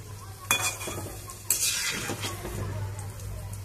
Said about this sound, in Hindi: और इनको गोल्डन ब्राउन होने तक फ्राई कर लेंगे